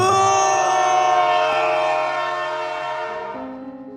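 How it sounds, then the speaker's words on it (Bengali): A loud, sustained train whistle used as a sound effect in a horror audio story, a rich harmonic blast that slowly fades and shifts pitch toward the end, with no voices. "ট্রেনের হুইসেলের শব্দের সাথে বিমলের চিৎকার যেন মিলিয়ে গেল"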